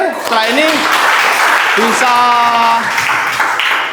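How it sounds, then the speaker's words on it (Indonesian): An audience claps in thanks for a participant named Kevin at a basketball session, a steady burst of applause lasting a few seconds while a speaker talks over it. "Beri tepuk tangan."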